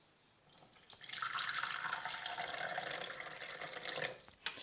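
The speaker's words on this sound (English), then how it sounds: "So now you're going to pour water, distilled water." Distilled water poured steadily into a container, a bright continuous splashing stream lasting several seconds, close and fairly loud, ending with a brief final splash.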